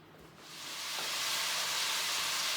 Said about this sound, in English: my meat is searing away here